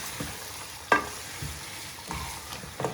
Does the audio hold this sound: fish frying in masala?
yes